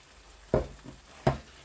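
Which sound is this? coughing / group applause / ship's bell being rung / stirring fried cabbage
stirring fried cabbage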